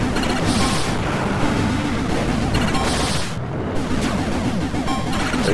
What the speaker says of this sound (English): It's those fucking missiles that keep doing it.